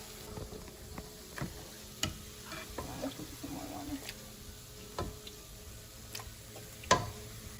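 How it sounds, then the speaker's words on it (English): Beans being mashed in a pan with a bean smasher while making red chilaquiles, giving soft scraping and tapping knocks at an irregular pace, with a sharper clack near the end, fairly quiet. "I'm gonna start smushing them with this bean smasher"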